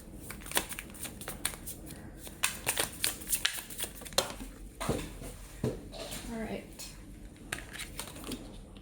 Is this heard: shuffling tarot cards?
yes